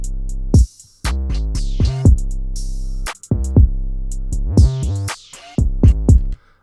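Heavy 808 bass from an FL Studio beat, with slides added so several notes bend and glide between pitches, plus crisp drum hits and hi-hats in a repeating rhythmic loop.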